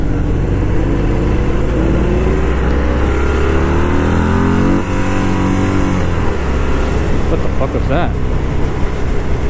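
A Harley-Davidson Fat Bob 114 motorcycle engine revs hard and stutters against its 5,500 RPM rev limiter, loud and close, with a man's startled exclamation over it.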